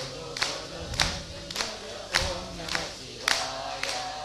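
Hands clap in unison during devotional bhajan singing at a temple festival, about seven sharp claps in a steady beat roughly half a second apart, with a soft murmur of crowd voices underneath.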